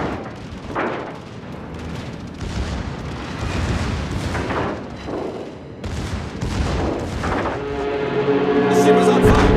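Naval combat in World of Warships with a USS Ohio battleship: loud, rolling gunfire and repeated heavy explosions boom one after another as a battleship sinks, building to a dense, roaring barrage at the end.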